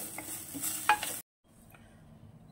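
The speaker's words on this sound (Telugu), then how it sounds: "కొత్తిమీరని కొంచెం ఫ్రై చేసుకుంటే సరిపోతుంది, ఎక్కువేం ఫ్రై చేసుకోవాల్సిన అవసరం లేదు." Coriander leaves fried briefly in a pan for kothimeera tomato pachadi give a close sizzle with a quick stirring scrape, then cut off abruptly to near silence.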